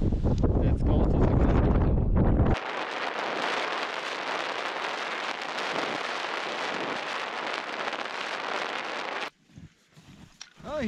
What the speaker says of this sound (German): hier ist es sauwindig und saukalt